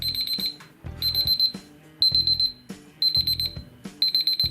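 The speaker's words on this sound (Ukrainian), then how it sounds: "Ось так звучить будильник." A VST-7066 digital alarm clock with thermometer beeps in repeating bursts of rapid high-pitched tones, with clacking sounds underneath, loud and close.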